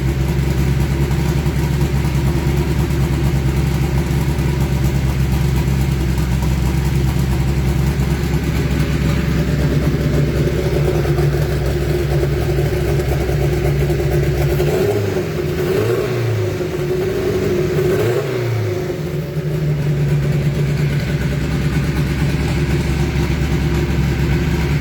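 A 1995 rear-engine dragster's powerful engine rumbles steadily at idle, deep and loud throughout, with a brief throttle blip and dip in pitch partway through.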